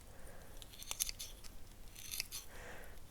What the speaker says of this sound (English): Maybe I'll cut some more of these roots